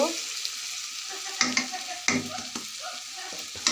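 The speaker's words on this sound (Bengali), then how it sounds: "এগুলো এখন আমি ভালো করে কষিয়ে নেব।" Chili powder and turmeric are sautéed in oil in a pan, with a soft sizzle under several sharp stirring scrapes and clatters from a spoon against the pan, close by.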